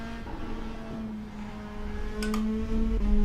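Race car engine in the netKar PRO racing simulator, a steady mid-pitched drone that swells slightly louder toward the end, with no talk over it.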